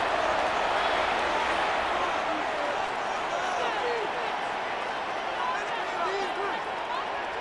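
A dense stadium crowd roars steadily at an American football game in Madden NFL 26, a constant broad wash of cheering and chatter that swells slightly and never breaks across the whole stretch.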